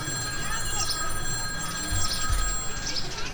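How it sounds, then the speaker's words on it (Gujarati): A telephone rings steadily for a few seconds, its bright electronic tone repeating close by over a faint low background. "હે આ તો જમાઈ નો ફોન"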